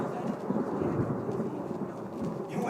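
A stage thunderstorm effect in a high school production of a musical, with a steady low rumble and rain-like hiss rolling on throughout, fairly quiet and free of voices.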